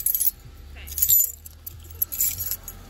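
Truck keys jangling in short metallic bursts close by, with a low vehicle rumble underneath and faint talk.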